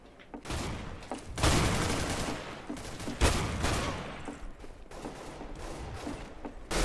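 Gunfire in the video game Counter-Strike: Global Offensive rattles in dense, continuous bursts with sharp louder reports, filling the whole stretch without talk.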